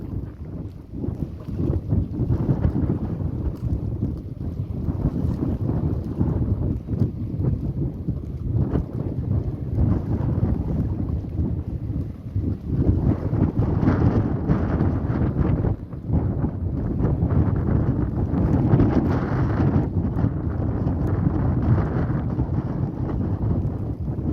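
Strong wind at sea on a fishing boat roars and buffets steadily throughout, a constant low rumble with gusty surges and no voices.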